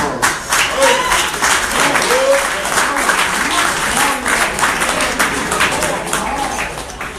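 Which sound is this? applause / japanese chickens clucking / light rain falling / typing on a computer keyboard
applause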